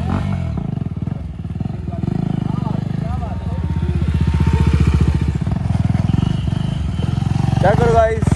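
A Hero Splendor motorcycle engine runs steadily with a throbbing, pulsing idle that rises slightly mid-clip, heard up close with voices in the background.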